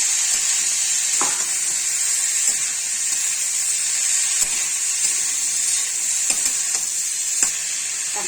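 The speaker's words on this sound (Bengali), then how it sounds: "এবার আমি মোচাটা ঢেলে দিচ্ছি। তার সাথে আলুগুলো দিয়ে দিচ্ছি।" Banana flower and potatoes hit a hot pan in a steady, loud sizzle, with occasional stirring scrapes and clinks close by throughout.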